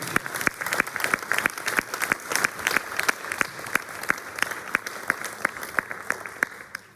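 Audience applause at a final political campaign rally for municipal elections, steady dense clapping from a crowd with sharp individual claps standing out, moderately loud and sustained to the end.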